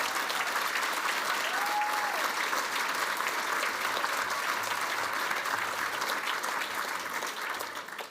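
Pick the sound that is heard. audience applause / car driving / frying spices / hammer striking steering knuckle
audience applause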